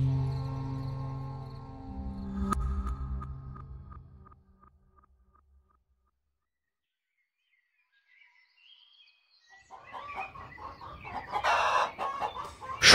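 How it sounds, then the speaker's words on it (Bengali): A rooster crows in the morning, a drawn-out crow followed by clucking, then silence, and more crowing and fowl calls rising louder toward the end. "সকালে মোরগের ডাকে ঘুম ভেঙে বিছানায় ধড়মড়িয়ে উঠে বসলাম।"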